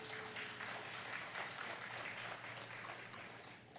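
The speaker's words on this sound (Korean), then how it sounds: "누군지 모르시지만 한번 박수 한번 보내주시기 바랍니다." Church congregation at a Friday Bible study applauding, a dense sustained round of clapping across the room that slowly tapers at the end.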